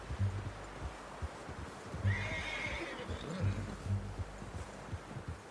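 A horse neighs once in a wavering call, set against a low rumbling background with soft periodic thumps, in the video game Red Dead Redemption 2.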